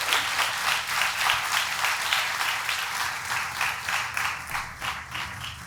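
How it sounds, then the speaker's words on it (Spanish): A church congregation applauds during a sermon, a broad wash of many hands clapping with a loose rhythmic pulse, steady and moderately loud, fading slightly toward the end. "Dele un aplauso al Señor."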